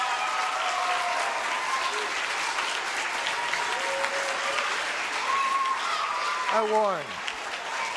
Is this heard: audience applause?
yes